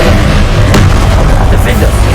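An Incendio fire spell in the Hogwarts Legacy video game lands as a loud, booming fiery burst inside a dense wall of battle noise, with a sharp crack partway through.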